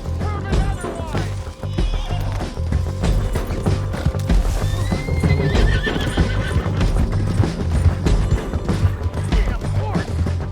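Horse hooves clip-clopping at a gallop with repeated neighs and whinnies in the Red Dead Redemption 2 western game world, loud and close over a dense layer of game sound and voices.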